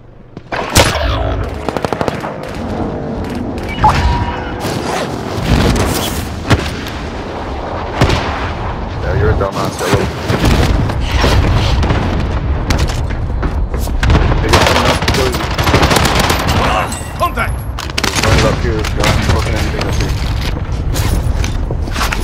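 Dense gunfire in Call of Duty Warzone on Rebirth Island, with loud sustained automatic bursts, booming impacts and mechanical clatter running continuously beneath occasional voices.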